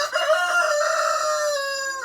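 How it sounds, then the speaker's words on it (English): A rooster crows loudly and close, one long drawn-out call with a rising start and a sustained, fading end. "Good morning, rooster."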